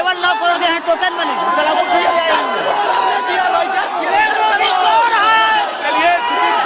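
A noisy crowd at an outdoor election debate in Ghorawal, Sonbhadra, packed with overlapping voices and loud chatter that stays steady and close throughout.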